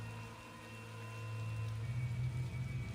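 Rain in the video game Tales of Xillia, falling in a marsh, a soft steady hiss over a low droning background, faint and continuous with no talk.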